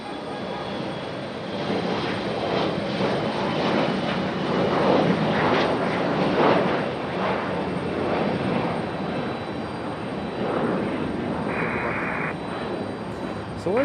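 A United airliner departs Raleigh Durham International Airport on a stormy day, its engines a loud, sustained roar heard from a distance, with a person talking over it.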